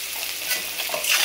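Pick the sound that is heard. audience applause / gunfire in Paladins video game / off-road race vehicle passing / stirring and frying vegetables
stirring and frying vegetables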